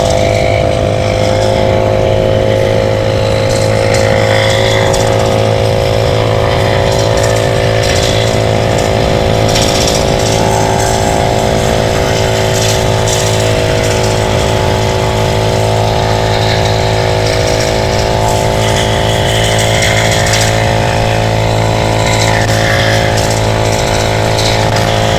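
A homemade bicycle fitted with a brush cutter engine and CVT drive screams at full throttle, a loud, steady high-revving two-stroke whine sustained for the whole stretch with no pauses and no talking.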